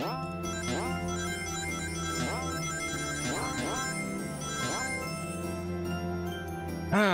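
Ring-collecting chimes from a Sonic the Hedgehog game, repeated bright jingling pickups layered over game music, several bursts in quick succession across the stretch.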